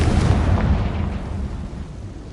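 Explosive spells such as Bombarda and Confringo going off in the video game Hogwarts Legacy, a dense, loud rumbling blast with sharp bursts early on that settles into a sustained low roar.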